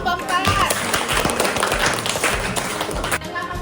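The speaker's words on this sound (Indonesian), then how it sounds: "Tepuk tangan untuk kelompok 4." Scattered clapping from a classroom group honouring group 4, a dense patter of hand claps sustained for several seconds with some voices mixed in, fairly close, tapering off near the end.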